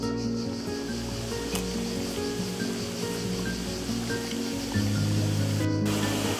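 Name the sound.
water flowing in streams and cascades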